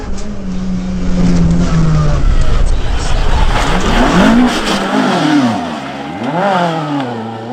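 Vauxhall Nova rally car on the Tour of Mull 2009 rally, engine loud and close, revving and changing pitch as it accelerates past, with rising and falling sweeps and a brief lull before pulling away.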